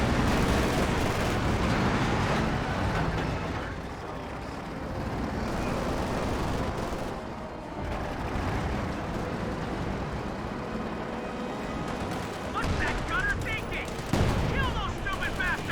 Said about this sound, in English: Bulldozer fires away, rolls a miss.